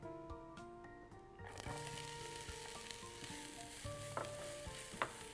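Onions dropped into a hot pan for a halloumi cheese and meat sandwich start a steady close sizzle after a quiet opening, with a few clinks and scrapes of a utensil and no talk.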